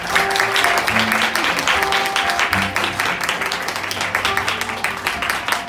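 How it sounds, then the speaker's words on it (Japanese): Steady applause from a crowd in a Shinsaibashi, Osaka bar, many hands clapping densely and continuously throughout at an even, fairly loud level. "どうぞどうか皆様拍手でお迎えください。"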